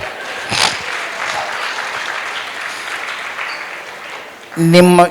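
Audience applause at a Kannada comedy event, a steady, sustained round of clapping from a crowd that carries on evenly, followed by a brief loud burst of music at the end.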